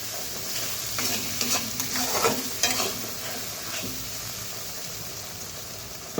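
Masala paste is stirred into okra in a hot pan, with a low sizzle and several scraping strokes of a spoon bunched in the middle. The sound is close but fairly quiet, and nobody talks.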